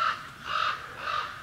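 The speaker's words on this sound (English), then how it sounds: "Bloody birds." Crows caw outdoors, three loud, harsh, evenly spaced calls close by, with no talk over them.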